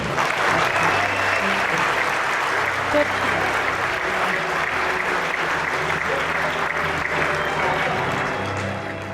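A Hall of Fame banquet audience applauds as Coach Jay Harrington is welcomed to the St. Louis Sports Hall of Fame, a dense sustained roar of clapping with crowd murmur and a voice briefly audible.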